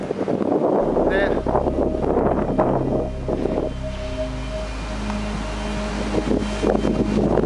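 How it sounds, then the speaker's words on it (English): Heavy outdoor wind rumbles and buffets against the microphone, loud and continuous throughout, with bursts of gusting noise and a constant low roar. "As soon as I put the camera on, the wind's blowing."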